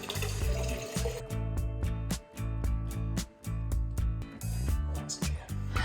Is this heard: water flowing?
yes